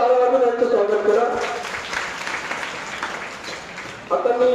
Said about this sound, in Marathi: जोराने टाळ्या वाजवून यांचं स्वागत करा.